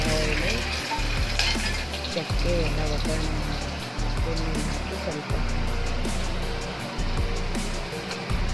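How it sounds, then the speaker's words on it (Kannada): Steady loud sizzling of onion, beans, carrot and tomato frying in hot oil, with occasional stirring scrapes and a voice talking now and then. "ಹಾಕಿ ಸ್ವಲ್ಪ ಫ್ರೈ ಮಾಡಬೇಕು"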